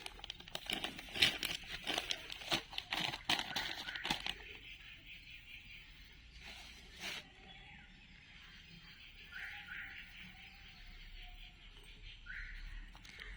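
Dried, crumbled leaves are scattered as mulch around the base of a young farm plant, giving a few seconds of dry crinkling and rustling bursts up front, then quieter, sparse handling sounds against a soft outdoor background.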